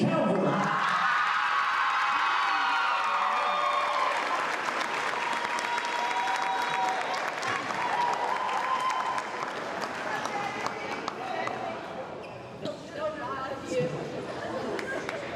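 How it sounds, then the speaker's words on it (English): A large crowd at a district volleyball championship applauds the tournament MVP and all-tournament team, loud sustained clapping mixed with cheers, whoops and chatter throughout, fading slightly near the end. "a big round of applause for 2023 41st District Volleyball All-Tournament Team"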